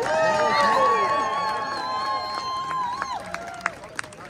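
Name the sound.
audience applause for carol singers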